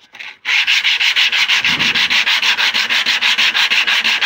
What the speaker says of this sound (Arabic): كل ما هنالك ورقة صنفرة 60 وتاخذها على قده اهو.